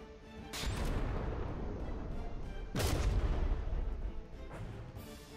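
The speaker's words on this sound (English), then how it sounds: "Tennessee taking some hits from those smaller guns on the Legionnaire, but Tennessee doesn't really care." Ship guns fire in a naval battle in the video game From the Depths, with two heavy booming blasts rolling into rumbling decay and a third shot starting near the end.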